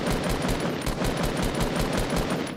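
Rapid, evenly spaced gunshots ring out in Fortnite, a loud sustained burst of about a dozen shots at a fast steady rhythm with no talking over them.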